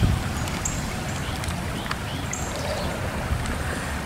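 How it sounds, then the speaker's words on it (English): Floodwater pours over a road in South Texas during major flooding, a steady broadband rush of flowing water heard up close and continuous, with faint scattered splashes and wind, and no talking. "Look, water's going over the road."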